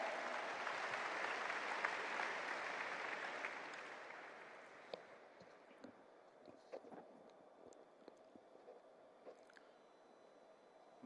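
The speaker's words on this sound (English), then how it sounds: "A thunderous round of applause" Audience applause at a maritime leaders conference in Mumbai, a broad wash of clapping that gradually fades over several seconds into scattered faint sounds and room noise.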